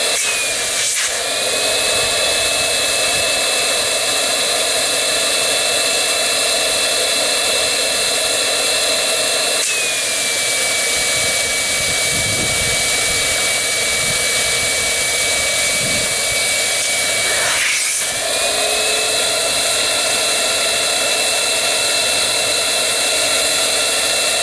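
A loud, steady electric pump motor whines continuously while inflating a boat, its pitch dipping briefly a couple of times as it strains, with no voices.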